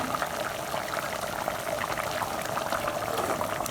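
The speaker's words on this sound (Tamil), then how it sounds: "குழம்பு நல்லா கொதிஞ்சிருச்சுப்பா." A pot of thick egg curry gravy (muttai kulambu) boils on the stove, giving a continuous, close bubbling and popping that holds steady throughout.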